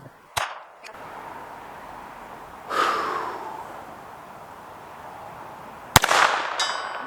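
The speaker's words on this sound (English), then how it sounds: "Shot number 40, 100-yard silhouette with a 1-inch revolver." Sharp gunshots from an NAA mini revolver, 22lr/22Mag, fired outdoors at a 100-yard steel silhouette: a crisp crack early, a softer report mid-way and another loud crack near the end, each with a brief ringing tail.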